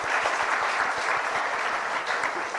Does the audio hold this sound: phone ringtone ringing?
no